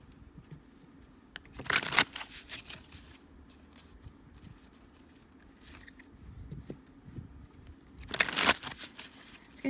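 A deck of tarot cards is shuffled in two quick riffling bursts, crisp close papery flutters separated by quieter handling and soft rustling.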